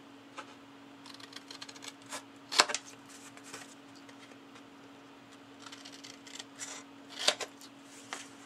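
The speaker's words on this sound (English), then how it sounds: "I'm going to cut where my score lines meet at an angle." Chipboard cut with scissors where score lines meet, producing quiet, scattered snips and crisp papery crunches, with two sharper, louder cuts standing out over a steady low hum.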